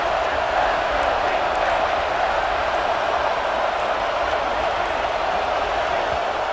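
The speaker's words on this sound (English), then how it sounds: "This crowd rising up, sensing that its defense needs some help." Stadium crowd noise from EA Sports College Football 26, a steady, loud roar of spectators rising during a defensive stand, with a dense wash of cheering that holds evenly throughout without clear breaks.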